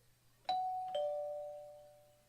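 A two-tone doorbell chime rings out clearly in the video game Collar X Malice, a ding followed by a dong, each note lingering and fading slowly in an otherwise quiet space.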